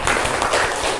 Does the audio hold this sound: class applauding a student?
yes